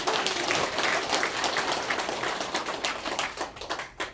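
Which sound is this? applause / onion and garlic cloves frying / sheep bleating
applause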